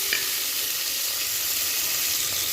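Whole spices, onion and tomato sauté in hot oil with an even, unbroken hiss and faint stirring underneath, heard close and alone.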